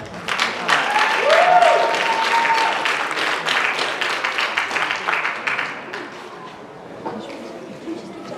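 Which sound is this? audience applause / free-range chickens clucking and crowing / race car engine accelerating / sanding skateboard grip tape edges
audience applause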